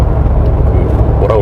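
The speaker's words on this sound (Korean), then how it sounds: "이렇게 천천히 달릴 때도 그 타이어 소음이" Low, steady road and tire rumble inside a 2019 Mercedes-AMG G 63 Edition driving slowly, heard close as a constant drone beneath someone talking throughout.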